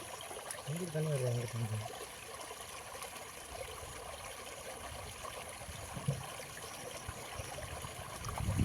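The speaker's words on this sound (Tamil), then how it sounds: "கீழே போயிட்டுருக்கு தண்ணி" Water running in a village stream, a steady broadband rush and trickle throughout, with a voice briefly heard near the start.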